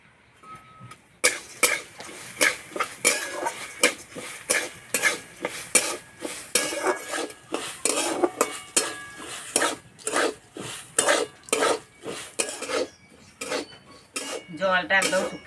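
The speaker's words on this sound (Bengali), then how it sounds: "এবার ডালটা ভেজে নেব" A utensil scrapes and clinks rhythmically against a pan, dozens of quick strokes stirring dry-roasting red lentils, steady and close, with a faint sizzle.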